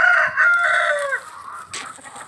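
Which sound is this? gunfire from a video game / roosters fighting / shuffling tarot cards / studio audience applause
roosters fighting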